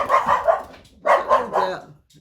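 Several dogs bark in two quick bursts of three or four yips each, close and fairly loud, with a short pause between the bursts.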